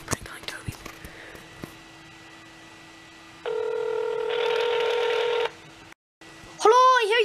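Telephone keypad tones beep in a short sequence as a number is dialed for a prank call, following faint whispering and rustling near the phone, then a brief electronic chirp after a pause.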